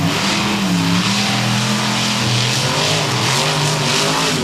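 Monster trucks Raminator and General Tire race on a dirt track in Lima, Ohio, their engines roaring loud and close in a continuous, wavering snarl that rises and falls in pitch as they rev hard.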